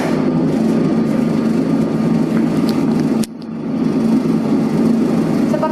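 A dough mixer machine mixing dry bread-dough ingredients with milk and eggs for donuts gives a steady, close motor hum with a brief dip partway through before resuming.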